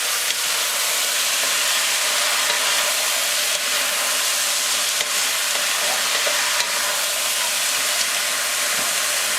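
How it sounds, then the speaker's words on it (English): Frozen green beans fry in oil over medium heat while being stirred, giving a steady, loud, continuous sizzle and hiss with faint scraping clicks throughout. "because the green beans were frozen, it's going to make a little bit of noise."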